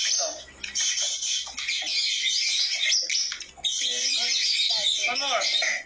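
A trained bird chirps and tweets repeatedly in bright, busy bursts while performing tricks, close by and fairly loud, with a person talking in between.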